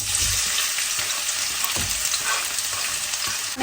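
Onion with ginger-garlic paste sizzles in hot oil after cinnamon and cardamom, a continuous bright frying hiss broken by a few scraping stir strokes and soft clinks of the spoon, close up and without talking.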